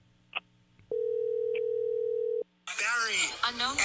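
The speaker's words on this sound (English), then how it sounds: "answer the phone" A telephone signal in a radio broadcast setting: a short blip, then one long steady electronic tone lasting about a second and a half, followed by a voice talking.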